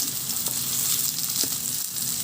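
Garlic and onion sauté in a hot pan, a steady close hiss and crackle of frying throughout, with a few faint stirring taps.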